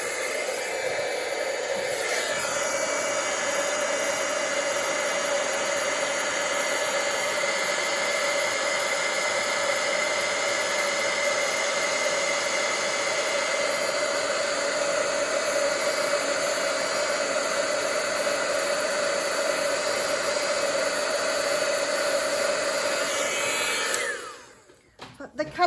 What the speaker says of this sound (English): I'm going to heat emboss that color again just to dry